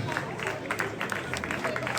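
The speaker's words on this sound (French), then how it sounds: "on l'applaudit pour cette magnifique deuxième place" A crowd claps for the second-place finisher at a running race in Châlons-en-Champagne, steady scattered applause, moderately distant, under an announcer's amplified voice.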